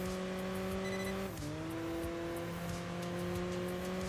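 A V12 hypercar engine in the racing game Enthusia Professional Racing holds a loud, smooth tonal howl, briefly dropping in pitch at a gear change before climbing steadily again, with faint tyre noise underneath.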